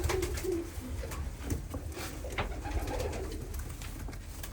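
Karakuyruk pigeons coo in a loft, soft repeated low coos close by over a steady background hum, with no talking.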